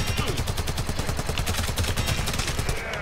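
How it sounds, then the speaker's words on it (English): Rapid, steady gunfire from a secondary weapon in the shooter game Warframe, a fast continuous stream of sharp shots close and loud for several seconds. "Because of the amount that this particular gun fires, it does pretty well."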